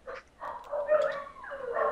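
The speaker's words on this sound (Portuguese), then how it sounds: "Que merda de cachorro aqui" A dog nearby whimpers and yips in short rising whines that run together over two seconds, with nothing else heard beneath them.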